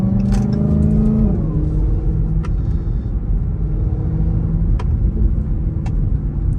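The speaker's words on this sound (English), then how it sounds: "That's like the best supercharger whine in my opinion." A Dodge Hellcat accelerates in morning traffic, its deep engine rumble carrying a steady supercharger whine that rises and shifts near the start, loud and close from inside the car, with occasional ticks and pops.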